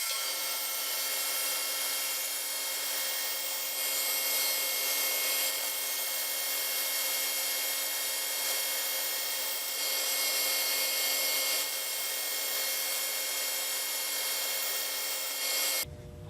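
A saw with a half-inch, 8-teeth-per-inch blade cuts thin wood segment discs in one long, continuous, steady rasping drone with a mechanical hum, loud and close, stopping abruptly at the end.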